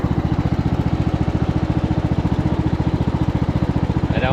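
A small engine on a riding lawn mower idles steadily, its fast, even low thumping pulses running the whole time, loud and close, with a brief higher whine near the end.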